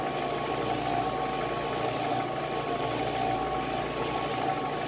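A homemade air compressor driven by a generator and fitted with a water-cooled air loop runs steadily at about two-thirds speed, giving a continuous, close, mid-pitched mechanical drone and hum with no talk.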